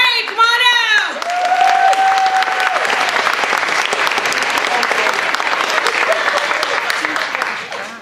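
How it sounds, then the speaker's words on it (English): A comedy club audience bursts into a big round of applause and cheering for a comedian coming on stage, loud dense clapping sustained throughout after a host's voice at the start. "Let's give Ray Burns a big round of applause"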